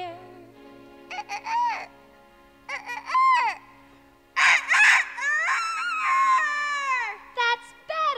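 A singer's voice imitates a rooster crowing in a stage musical finale, with a few short rising calls followed by a long, loud, wavering crow that swoops down at the end. The calls sound close and stand alone, with no speech.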